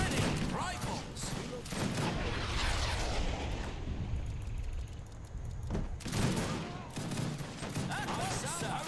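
Rifle volleys in Age of Empires 3, dense crackling bursts of massed gunfire in waves, fading in a quieter stretch midway before another loud burst, with battle clamor behind.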